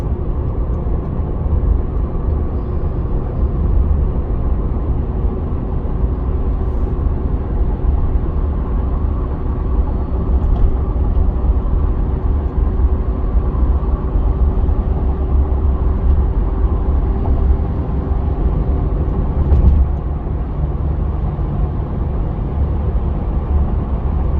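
A 2006 Mazda MPV climbing a hill gives a steady low engine and road rumble from inside the cabin, continuous and even throughout, with no voices.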